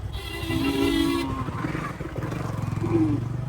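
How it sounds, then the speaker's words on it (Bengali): Motorcycle engine droning and revving as a bike pulls into a busy cattle market where workers are unloading, the low rumble steady throughout with brief background voices. "তার কাছে দেখো বাইক আসে।"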